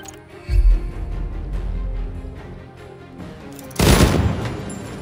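Gunfire bursts in the video game Jagged Alliance 3, with two loud booming volleys, one near the start and a heavier one about two-thirds through, over a low rumbling background.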